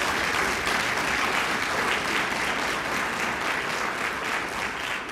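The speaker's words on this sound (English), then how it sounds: "a huge round of applause for what they've done this year as pace setters" Applause from a crowd at a United Way community gathering in Ripon, a dense, continuous sheet of clapping that holds strong and steady throughout and fades only slightly near the end.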